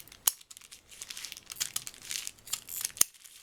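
Lace fabric being trimmed for a curved sewing piece, with crisp crinkling and snipping rustles close up, two sharp cuts standing out amid continuous handling noise, without speech.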